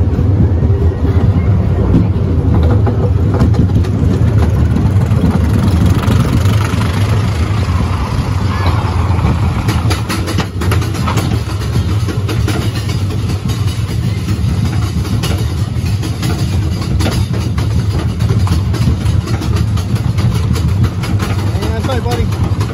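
The Jack Rabbit roller coaster at Seabreeze amusement park in Rochester, NY, rides from the front seat with a loud, continuous rumble and clatter of wheels on track, plus wind noise, while riders talk and shout throughout.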